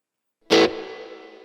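An electric guitar played through a Joyo JA-05G mini amp with reverb on, one loud strummed chord ringing out and then a long reverb tail fading away, with no talking.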